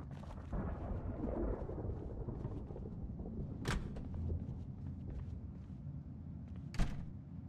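Thunderstorm in the zombie survival game Project Zomboid, with steady rain and low rumble throughout and two sharp, loud thunder cracks, one near the middle and one near the end.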